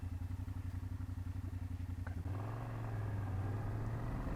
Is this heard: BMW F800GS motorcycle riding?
yes